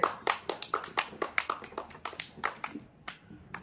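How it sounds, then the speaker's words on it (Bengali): A small crowd applauds at a village ball game for girls, producing a quick, fairly close run of irregular hand claps that lasts the whole stretch. "খুব সুন্দর, হাততালি হয়ে যায় একটা জোরে।"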